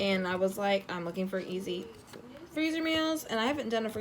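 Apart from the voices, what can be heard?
None of the usual background noises is heard.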